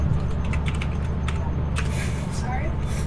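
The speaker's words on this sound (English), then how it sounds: "He got a mechanical keyboard." Quick clicking keystrokes from a mechanical keyboard rattle in short bursts over a low background hum.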